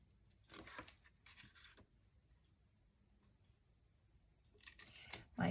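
Scissors cut through paper at close range in a few short, crisp snipping bursts separated by quiet pauses, with a louder final cut at the end.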